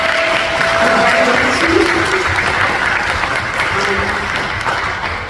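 Sustained applause from an audience at a 2022 college prep scholarship awards ceremony, steady and dense clapping that holds for about five seconds before easing slightly at the end, with no voices standing out.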